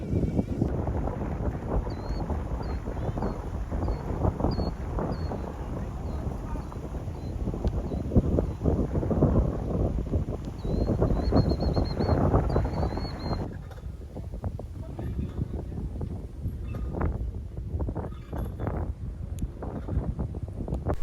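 Steady wind buffets the microphone throughout on a sunny fall day outdoors, a constant low rumble and roar with faint chirps and brief voices in the background.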